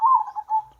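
A zebra dove (perkutut) coos close by, a clear, loud, tonal call broken into a few quick rolling pulses, heard alone without talk.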